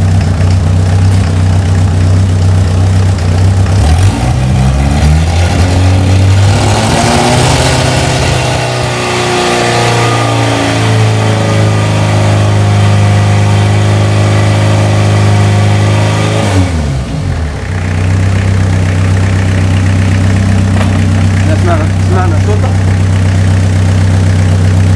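A Renault R19 diesel engine runs outside the car, resting on the ground. It has a loud, close, rough idle, revs up and holds higher for several seconds, drops back, then settles into a steady clattering idle.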